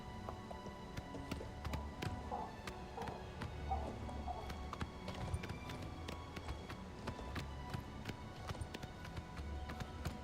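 Horse hooves thud in a steady running rhythm while riding in the video game Oblivion Remastered, moderately loud under a bed of game ambience with faint music tones.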